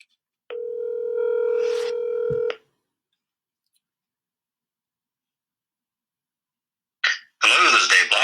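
A telephone dial tone holds steady for about two seconds, cut off by a brief click, then after a long silence a burst of rapid dialing or line noise sounds close and loud near the end.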